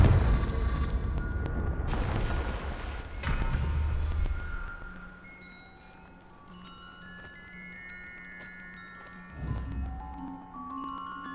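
A Confringo fire-blast spell from Hogwarts Legacy goes off as a pair of loud explosive bursts, then low rumbling fades into quieter game ambience, with another thump near the end.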